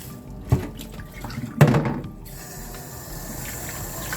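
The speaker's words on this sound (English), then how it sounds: "I'll rinse it again a little bit more" Tap water runs over fresh lemongrass being rinsed in a kitchen sink, with two short splashing bursts over a softer, steady trickle of flow.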